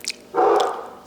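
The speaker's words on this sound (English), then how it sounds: "doggies are barking" A dog gives one loud, close bark after a faint yip, short and sharp.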